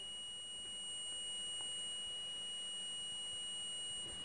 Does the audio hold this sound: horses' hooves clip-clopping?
no